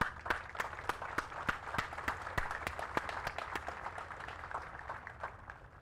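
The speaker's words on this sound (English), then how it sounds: "I'd like to give you all a round of applause" A round of applause at a military ROTC cadet graduation ceremony: distinct, separate claps ring out in an uneven rhythm from a modest crowd, with a low background rumble beneath.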